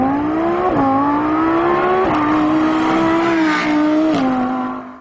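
Lamborghini 5.2-liter V10 engine with an 8,250 RPM red line, loud and close, holding a strong steady tone that climbs through several revs with brief shift drops, no voices.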